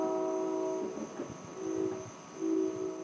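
A train passing nearby, a steady rumbling drone with sustained horn-like tones that swell and fade twice over about three seconds, heard alone without speech.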